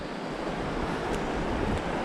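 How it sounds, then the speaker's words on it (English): A river swollen to about twice its usual size rushes past, a constant broad roar of flowing water that stays loud and even from start to finish, with no one talking. "I found the river, and she's about twice what she normally is."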